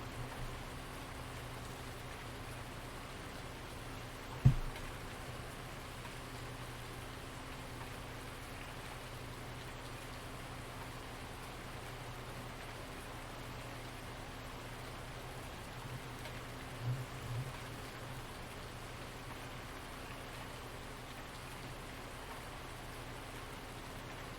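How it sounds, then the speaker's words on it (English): Rain falls in the Farming Simulator 19 video game as a soft, even, continuous hiss at low volume, with one brief thump early on and a couple of faint knocks later. "Unfortunately, this is going to be a lot of darkness and rain for a while."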